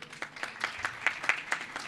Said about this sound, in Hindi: ये आपकी तालियों की आवाज़ कोई मज़े की नहीं लगी मुझे